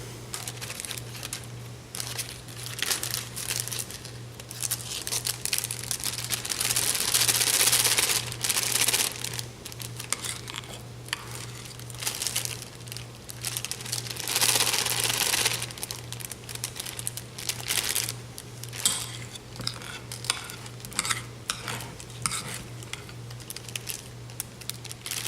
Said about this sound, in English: we're going to take a sandwich baggie and fill it with the egg mixture that we just had